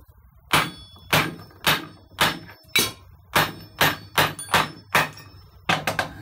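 A hammer strikes an iron bar about a dozen times to drive a rear wheel bearing into a Volkswagen Golf 3, sharp loud metallic blows in a steady rhythm that quickens toward the end.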